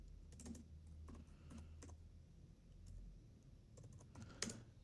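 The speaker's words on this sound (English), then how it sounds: "Will my keyboard work though?" Keystrokes on a computer keyboard, a scattered run of sharp clicks in irregular bursts, close and fairly quiet over a low steady room hum.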